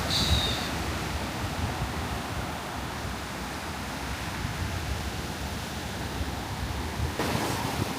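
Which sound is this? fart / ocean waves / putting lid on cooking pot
ocean waves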